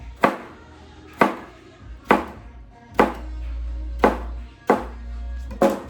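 A knife chopping daikon and other vegetables on a cutting board, about seven distinct, evenly paced thuds, close and crisp, with a faint low hum between strokes and no talking.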